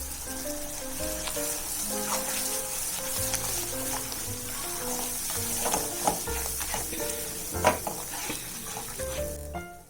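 Ground tomato paste going into a hot pan for paneer butter masala, sizzling steadily with stirring scrapes and clinks throughout, close and continuous with no talk.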